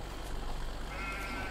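Sheep bleating in Farming Simulator 17 during a snowy Seasons game on the Dusty Cove map, a short wavering bleat at moderate volume over steady background hum, with a brief higher-pitched bleat tone near the end.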